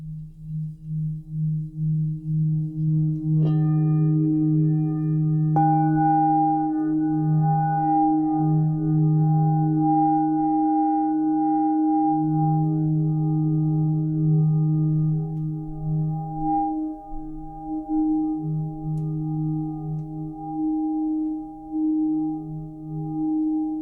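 A magnetic double singing bowl is struck and rubbed, giving a sustained, resonant hum with layered ringing overtones. Fresh strikes add new bright tones, and the sound swells and pulses steadily for over twenty seconds with no talking.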